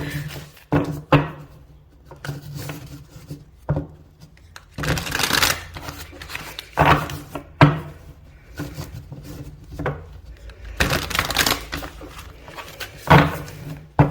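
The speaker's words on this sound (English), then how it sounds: "I'm just going to give this tarot deck a shuffle" A tarot card deck is shuffled in repeated riffling bursts, with soft taps and handling sounds between them, close up and fairly loud.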